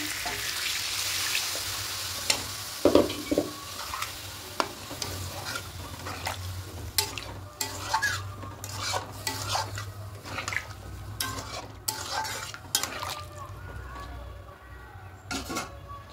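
Potatoes sauté with spice masala in a pan for aloo dum, sizzling steadily up close while a spoon scrapes and knocks against the pan in frequent irregular strokes.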